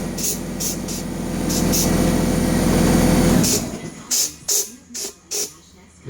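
An air compressor runs with a loud, steady droning rumble during powder coating of bike hubs and parts, then shuts off, leaving a few sharp bursts of spray hiss from the powder gun.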